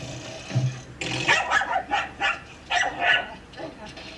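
A dog barks about seven times in short yips and bow-wows, at moderate distance and fairly loud, while people talk around it.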